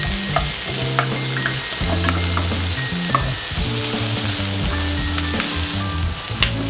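Garlic fries in a pan with a steady bright sizzle and crackle, stirred now and then with clinks and scrapes, close and continuous with no talking.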